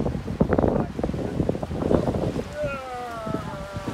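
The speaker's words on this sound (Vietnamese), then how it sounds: "gió mát phải không" Wind blows steadily across the microphone at the seaside at Tahara-Irago in Aichi, Japan, a constant rough rumble with gusty swells. People talk over it, and a faint whistling tone rises in the latter half.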